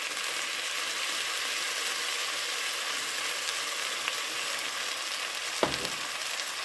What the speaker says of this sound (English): I'm going to add some Worcester sauce.